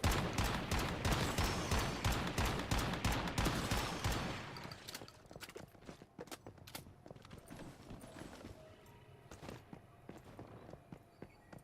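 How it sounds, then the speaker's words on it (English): Rapid, loud shotgun blasts from the Once Human video game, dense for the first four seconds, then scattered single shots and footstep-like clicks at lower level, no talk. "Shoot 'em all with the shotgun."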